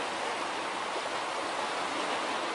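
Water runs steadily down through rocks in a stream, a continuous broadband rush that holds an even level throughout with no voices.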